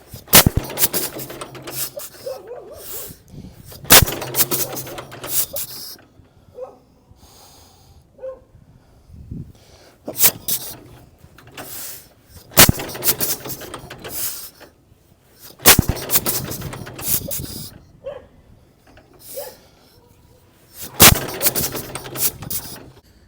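A 1941 John Deere Model B two-cylinder tractor with poorly firing cylinders trying to start, loud bursts of sputtering pops and coughs that fade out, repeated several times with quieter gaps between attempts.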